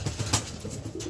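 Racing pigeons in a loft give soft low cooing calls, a few close coos spread through a short stretch with a brief brighter flutter-like burst near the middle, no voices over them.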